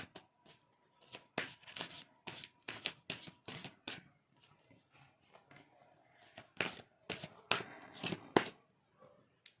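Tarot cards shuffled for a reading: close, crisp riffling bursts come in uneven clusters, with short pauses between shuffles and no talking.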